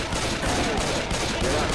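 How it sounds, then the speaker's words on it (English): Gunfire aimed at the Tank in Left 4 Dead 2 forms a dense, continuous, loud barrage of overlapping shots with no break across the short burst. "Shoot the tank."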